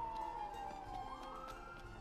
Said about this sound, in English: Hooray for sirens